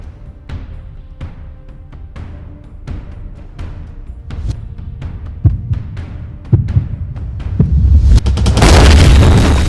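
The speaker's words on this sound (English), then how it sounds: "The landmine in Eric's body exploding was mainly created from stock elements from Action Essentials 2" Landmine explosion built from stock effects: a rapid series of sharp booms and bursts grows denser and louder, ending in a sustained roaring blast.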